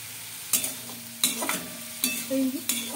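Spice paste with ground cumin and coriander is stir-fried in a pan for a fish curry, a soft sizzle beneath four sharp scraping strokes of a spatula spaced roughly evenly, close and clear.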